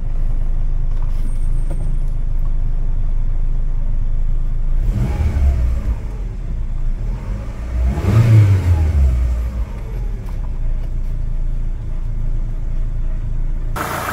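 Car engine running steadily after a fix for RPM fluctuation while idling, a continuous close rumble with two brief swells in the middle, then settling back to an even hum.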